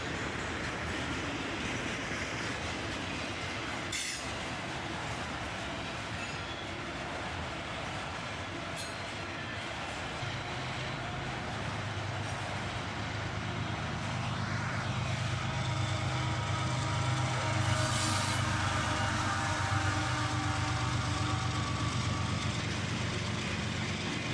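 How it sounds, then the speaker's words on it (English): CSX auto-rack freight train led by a single ES44AH locomotive rolling past under blue skies, a steady rumble of rail cars with occasional wheel squeal and clatter, growing louder and heavier toward the end. "An auto-rack train under blue skies, led by a single ES44 ACH."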